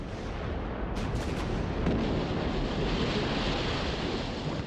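A British squadron fires a naval cannon broadside in July 1940, heard as a dense, sustained roar of distant gunfire and booming rumble, loud and continuous like surf, with no talk.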